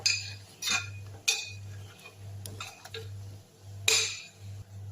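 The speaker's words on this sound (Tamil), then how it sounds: "ஒரு ஸ்பூன்லேயே நல்லா சுரண்டி விட்டாச்சு" A metal spoon scraping residue off the bottom of a cooking pot, giving a few irregular sharp clinks and scrapes of metal on metal over a steady low hum, close and moderately loud.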